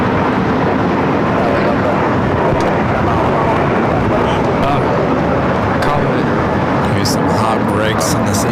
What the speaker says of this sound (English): Flight 2728 taking off to Denver.